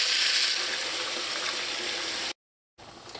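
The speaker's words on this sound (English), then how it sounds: "I'm going to add enough water to cover the chicken to help it cook." Water being poured into a pot of chicken curry, a steady broadband rushing splash lasting a couple of seconds, then a brief gap and a quieter trickle near the end.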